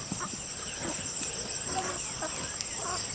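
A flock of broiler chickens clucks and murmurs in short, scattered calls at moderate distance under a steady high hum, with no talk.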